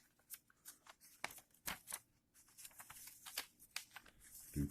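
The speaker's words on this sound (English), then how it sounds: "Let's fold this in half right here." Paper is folded and creased for an origami iguana, giving faint, close crinkles and sharp snaps in an irregular rhythm.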